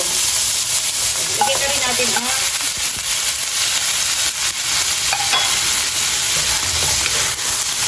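Steady loud sizzling of shrimp frying in a hot pan for mung bean stew, with occasional stirring scrapes and a constant hiss.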